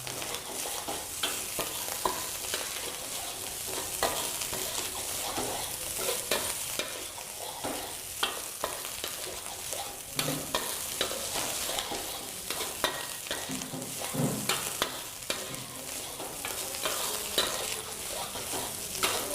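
Nasi goreng fried rice being stirred and fried in a wok over high heat, continuous loud sizzling broken by repeated scraping and tossing strokes, no voices.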